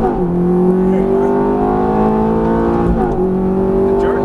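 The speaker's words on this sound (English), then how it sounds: "Make sure to squeeze on the throttle. We'll rev it up a little more." A Ferrari F430 with a single-clutch gearbox revs up loud and close, its pitch climbing, dipping briefly at a gear change, then climbing again.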